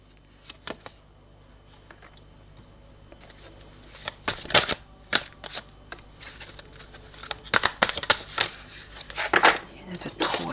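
Tarot cards are shuffled and drawn during a card reading, with quiet handling at first, then crisp papery riffles and flicks building through the second half, close and fairly loud.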